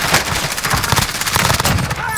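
Rapid, dense gunfire from a Warzone match crackles almost nonstop over roughly two seconds, loud and close, with bursts overlapping one another and squad chatter underneath.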